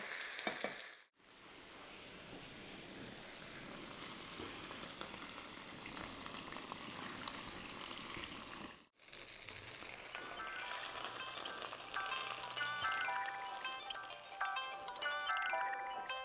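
Crispy bun frying in a wok or pan, a steady loud sizzle that breaks off for a moment as it is flipped, then a brighter crackling fry with small clinks.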